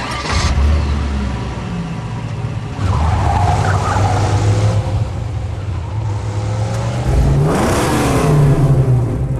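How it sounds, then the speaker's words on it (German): A ramshackle junk car in the Mad Max video game drives and revs loudly, its engine droning continuously with rising roars and tire squeals as it skids, no talk over it. "Ja, bis jetzt ein ganz schönes Schrottauto, aber es fährt schon"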